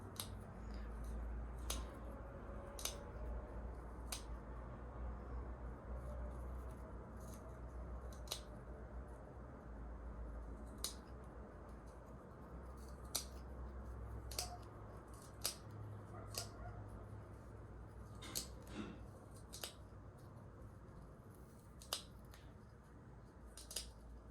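Scissors snip a carbon fiber (Carbontex) drag disc for a fishing reel, with sharp, irregular clicks spread over a quiet background, close and fairly soft, with no talking.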